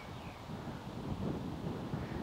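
Steady low wind rumbling across an open golf course, a continuous buffeting roar close to the microphone with slight gusting swells and no speech.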